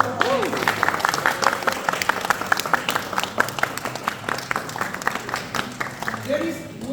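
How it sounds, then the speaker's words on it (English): A room of board game tournament players claps for everyone, steady mid-distance applause with a few voices and cheers mixed in, continuing throughout. "Please, a big round of applause for all of you."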